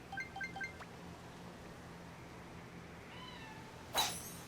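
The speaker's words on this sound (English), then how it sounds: "If you can hear the cat in the background." A cat meows several times in quick succession in the background, faint and distant, followed by a quiet electronic tone and a brief sharp click near the end.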